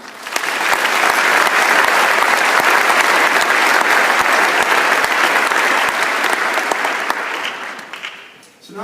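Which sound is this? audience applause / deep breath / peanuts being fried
audience applause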